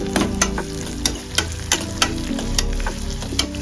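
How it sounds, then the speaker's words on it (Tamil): Onions sautéing in a pan for a spicy garlic curry, a continuous close sizzle punctuated by regular sharp clacks of a spoon stirring against the pan, with no voices. "வெங்காயம் வதங்கிட்டு வெயிட் பண்ணுவோம்."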